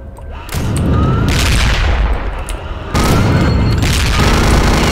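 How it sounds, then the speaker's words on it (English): Gatling gun fire in Return to Castle Wolfenstein, two long sustained bursts of rapid, booming shots, very loud and close, separated by a brief dip, with no talking. "Gatling guns."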